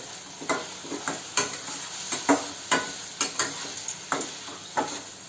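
Chunky pieces are sautéed with turmeric and asafoetida in a pan: a spatula scrapes in a steady rhythm of short strokes over a low, continuous sizzle.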